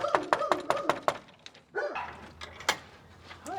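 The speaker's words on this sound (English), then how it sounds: "puppies." Puppies barking in a quick series of sharp, high yips close by, followed by whimpers and a few scattered barks under faint background noise and a voice.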